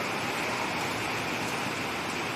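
First monsoon rain falls steadily as a dense, even hiss with no breaks or distinct drops, fairly loud and close, with no voices.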